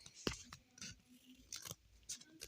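Scissors snip through a children's school-set gift package with a teddy bear and hearts printed on it, giving a few quiet, separate crisp cuts and rustles close by.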